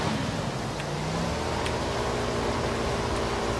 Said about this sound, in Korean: 자 오토바이 타고 간다.